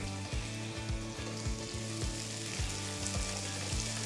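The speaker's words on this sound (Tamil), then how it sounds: "இதெல்லாமே சேர்த்து வதக்கணும்." Continuous close sizzle of thinly sliced onions frying in hot oil with spices, with soft regular stirring scrapes.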